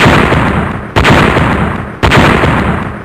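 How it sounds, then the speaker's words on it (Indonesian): Fist-sized silver balls explode in a dramatic audio-drama effect: three loud, booming blasts at roughly one-second intervals, each with a long rumbling decay. "Bola perak baru saja dilemparkan Chen Yun ketika bola-bola itu tiba-tiba meledak."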